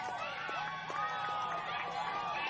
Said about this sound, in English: you can hear the crowd across to my right there